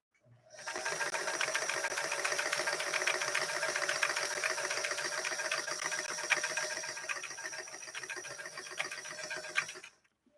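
A Singer 328K sewing machine runs steadily for about nine seconds while stitching a 3-point zigzag, giving a fast, even mechanical clatter with a faint whir underneath. The sound is close and clear, with no talking over it.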